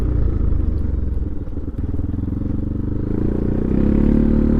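A motorcycle rides along a badly broken rural road on the way back from Desa Kuta Mbelin, its loud, steady low engine rumble mixed with clattering and scraping over the rough surface, with no voices.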